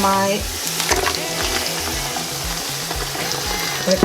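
Browned onion frying in a pot for Jamaican rice and peas, a steady close sizzle with rhythmic scraping of a spoon stirring, no talk.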